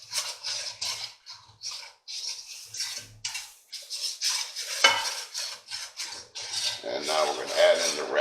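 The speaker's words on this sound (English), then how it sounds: "We're going to give that a good stir." A spoon stirs chicken broth gravy in a pan, producing repeated scraping, rasping strokes against the metal in an uneven rhythm, close and clear with a faint sizzle underneath and no talking.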